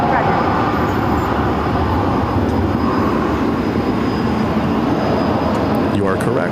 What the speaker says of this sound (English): arrival on runway 8. Looks like a Southwest 737.